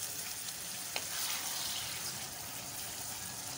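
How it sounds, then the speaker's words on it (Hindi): Chopped tomatoes fry in a pan for a chicken karahi, giving a soft, steady sizzle with a brief clink near the start. "ये मैंने टमाटर डाल दिए, अब भुनाते हैं इसे"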